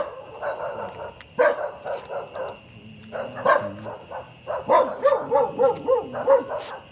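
A dog barks repeatedly nearby in short bursts, some yippy and whiny, with brief pauses between volleys.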